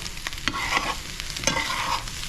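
Egg frying in a pan, a soft continuous sizzle with scraping stir sounds and a few clinks over it, close by with no talking.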